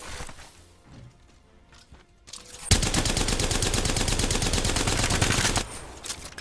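An automatic gun firing in video game aim practice, a few scattered shots and clicks, then a loud sustained rapid burst lasting about three seconds before stopping.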